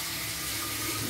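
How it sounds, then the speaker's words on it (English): Water runs from a tap into a container in a home kitchen, a soft, steady rushing flow heard alone and fairly close. "I'll fill in some water"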